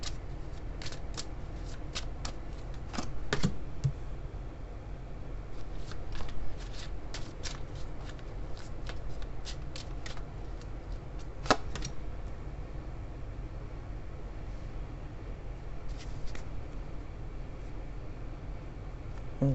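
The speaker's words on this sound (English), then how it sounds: "let me pull a couple of Lenormand cards here." Lenormand cards are shuffled and pulled for a tarot reading, a steady papery riffle with repeated sharp card snaps throughout, close up, with no talking.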